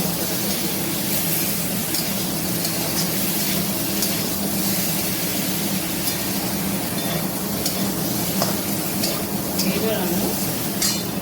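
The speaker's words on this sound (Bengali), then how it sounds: "গ্যাসটা লো ফ্লেমে করে ভালো করে মশলাটা কষিয়ে নেবো।" Ground spices being fried and stirred in a pan over a low flame while cooking jackfruit curry, giving a continuous close sizzle with occasional utensil scrapes; a voice speaks briefly over it.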